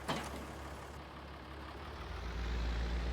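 A tractor engine drones steadily in a farming simulator game on the Fichthal map with the MaizePlus mod, a low continuous rumble that grows slightly louder toward the end, with no talking.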